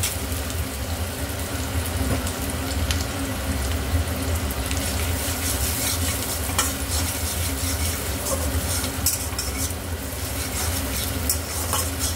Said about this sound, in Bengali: এবার রসুন কুচিগুলো দিয়ে দেবো, রসুনগুলো একটু ভাজা হবে।